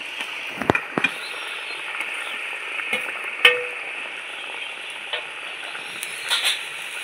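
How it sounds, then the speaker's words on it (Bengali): Fried eggplant pieces go into a bubbling fish curry of tangra fish with potato and bori, giving a steady close sizzle and simmer with a few sharp clinks of utensil against pot. "ভেজে রাখা বেগুনগুলো দিয়ে দিচ্ছি"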